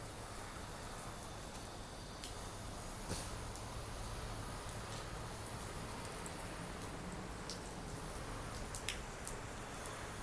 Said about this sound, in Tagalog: ang lakas ng ulan pa